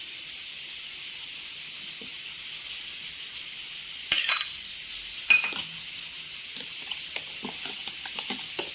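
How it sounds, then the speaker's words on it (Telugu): Cucumber pieces hitting a hot pan for cucumber dal, giving a steady close sizzle with scattered scraping stir clicks and small spatters, no talking. "ముక్కలు వేద్దాం, దోసకాయ ముక్కలు."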